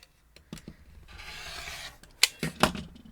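Scissors or a rotary cutter slice through quilt fabric pieces at a 45-degree angle, a steady rasping cut followed by three sharp close snips, with no talking.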